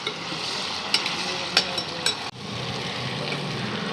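Food being stirred in a pan over a steady sizzle in a hostel kitchen, with a few sharp clinks of the spoon against the pan and a brief drop-out midway.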